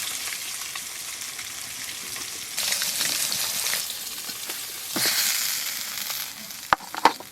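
Rohu fish frying in oil in a pan make a continuous sizzle that swells louder twice, ending with a few sharp clinks of a utensil against the pan.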